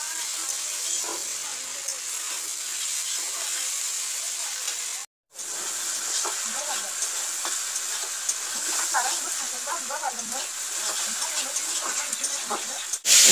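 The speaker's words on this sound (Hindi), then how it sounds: "अभी मैं भिंडी फ्राई कर रही हूँ" Okra (bhindi) frying in a pan, a steady hissing sizzle with soft stirring scrapes, close and moderate, broken once by a brief gap midway.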